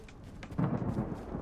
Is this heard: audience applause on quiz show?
no